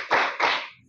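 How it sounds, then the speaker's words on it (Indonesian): A class of students claps a rhythmic salute in a classroom lesson, two sharp bursts of clapping in quick succession, close and loud with no talking. "Tepuk salut dulu untuk kita semua."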